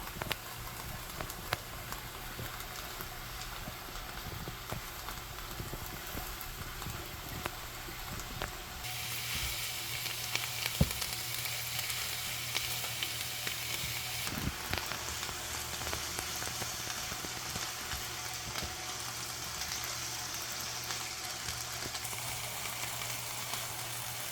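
Spinach sizzles steadily in a frying pan while a vegetable omelette is cooked, a soft continuous crackling hiss that stays even throughout, with a slight shift in texture partway through and no talking.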